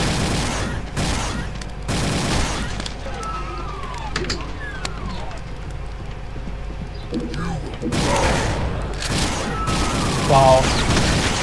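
Plasma gun in Brutal Doom on the SIGIL E5M7 Nightmare Underworld map, firing in rapid bursts with impacts and heavy booms, loud throughout, while someone talks over the shooting.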